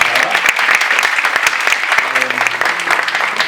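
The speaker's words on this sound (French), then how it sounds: "je pense qu'on peut s'applaudir. Applaudissons-nous." An audience at a gathering of a delegation from Mayotte claps loudly and steadily for a few seconds, a dense, close wash of applause with some scattered voices mixed in.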